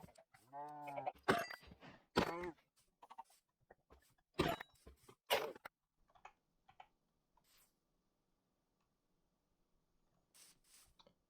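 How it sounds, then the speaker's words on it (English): Sheep in a farming video game bleat in several short, clear calls spread across the first half, followed by near silence with faint background sounds and a few soft bleats toward the end. "There's another sheep, so let's go shear that one too."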